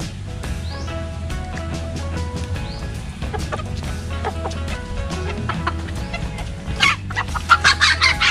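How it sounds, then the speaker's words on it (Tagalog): Fully grown bantam chickens cluck steadily close by, with rhythmic calls and occasional louder bursts toward the end, over a low background hum. "ito sila guys ay fully grown na bantam na. So nagbe-breed na sila"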